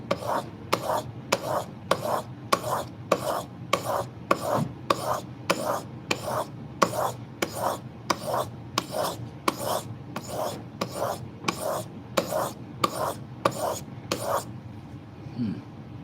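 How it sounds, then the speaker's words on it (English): A blade rasps back and forth across sharpening stones in steady, rhythmic strokes, roughly one and a half per second, close and clear with no talk. "See if we can move this thing down the sharpening scales."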